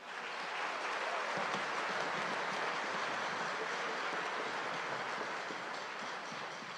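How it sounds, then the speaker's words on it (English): Sustained applause from a large audience at a middle school winter band concert, a dense, even wash of clapping throughout. "Let's give them a round of applause."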